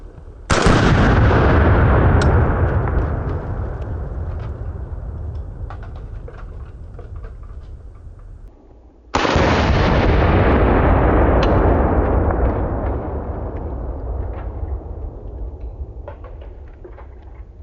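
Mac-11 submachine gun fired in two long, loud, rapid full-auto bursts, each about eight seconds of dense, continuous gunfire, separated by a short pause, with no voices.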